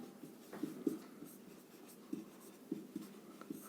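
A pen writing out a geometry proof on paper, close and quiet, with short scratchy strokes and pauses between them.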